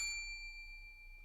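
One bright bell ding strikes at the start and rings out with a clear, sustained tone that slowly fades in a quiet room.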